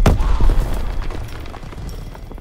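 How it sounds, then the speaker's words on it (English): A grenade goes off in a Call of Duty WW2 D-Day Normandy battle, a loud close boom at the start that decays into rumbling debris and scattered battlefield noise. "Throwing a grenade!"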